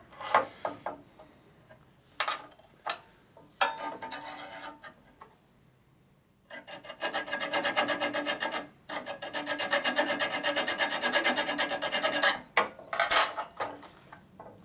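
Hand filing a chassis part on a 1942 Harley-Davidson WLA/WLC 45ci Liberator motorcycle, held freehand without a vise: bursts of rasping strokes, then long steady rhythmic runs of scraping, close and fairly loud, with no talking.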